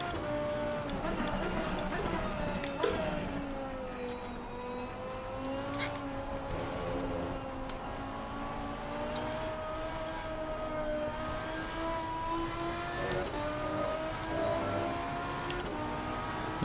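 A Reiter Lamborghini Gallardo REX race car's engine holds a steady, droning note in Assetto Corsa Competizione, its pitch rising and falling gently with throttle as sharp ticking clicks run through it.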